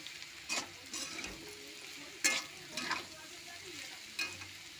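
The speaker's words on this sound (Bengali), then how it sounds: "হলুদ দিয়ে একটু ভেজে নেবো।" Potatoes fry with turmeric in hot oil, a low steady sizzle broken by a few sharp scraping stirs of a spatula in the pan, close and clear.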